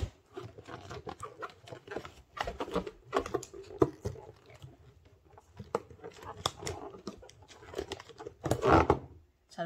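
A 260-type modelling balloon is twisted and knotted by hand, giving off rubbery squeaks, rubbing and crinkly patter in uneven bursts, with the busiest stretch near the end.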